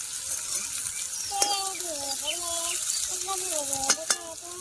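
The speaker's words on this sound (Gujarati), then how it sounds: "હવે ભીંડા નાખી દઈએ." Okra dropped into a hot pan for kadhi and stirred, a close sizzle with scraping stirs and a couple of sharp clatters, while a voice speaks over it.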